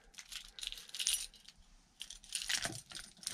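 A bunch of keys clipped to a carabiner anti-loss keychain jangles and clinks in two short bursts of bright metallic rattling, close and fairly quiet, with no talking.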